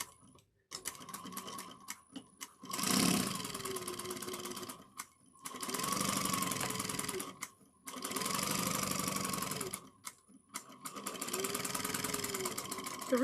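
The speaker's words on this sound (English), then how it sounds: "we're going to sew this together at 3/8 of an inch, and you're going to back stitch well at the beginning and the end." A sewing machine stitches a bag seam at three-eighths of an inch with backstitching at each end, running in several whirring bursts separated by short pauses, close and clear.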